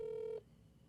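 A single steady telephone tone sounds clearly for under half a second and then cuts off, leaving faint low background noise.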